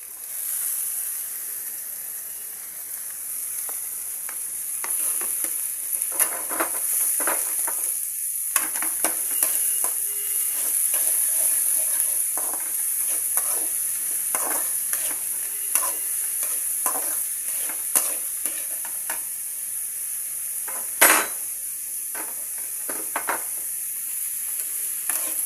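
Beans, carrot and capsicum for veg fried rice sizzle in a pan with a steady hiss, while a spatula scrapes and stirs in frequent clicks and knocks, with no talking.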